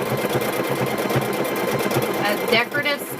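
A sewing machine stitches a decorative pattern onto a kitchen hand towel, a steady rapid close mechanical whirring and ticking throughout, with a voice heard over it.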